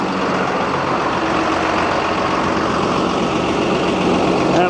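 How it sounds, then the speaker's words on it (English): Mobile air compressor mounted on a Fastrac tractor runs steadily at close range, giving a continuous, loud mechanical drone with a low engine rumble throughout. "So we've got the mobile compressor."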